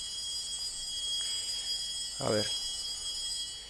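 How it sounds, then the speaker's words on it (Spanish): At a panel discussion on the Colombian peace process, a bell rings to mark that speaking time is up, a sustained high metallic ringing that hangs over the whole moment while a voice briefly speaks. "esa es la campana, con lo cual ya dije que no hablaba de justicia de transición y tocó la campana"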